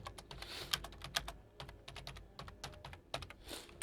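Typing on a computer keyboard while entering HTML code, a steady run of close, crisp key clicks with irregular rhythm and a few louder keystrokes, no voices.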